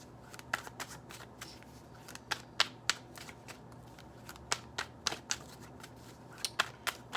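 Tarot cards shuffled by hand for a love reading, a steady run of crisp riffling snaps and slaps in irregular bursts, close and fairly quiet, with no talking.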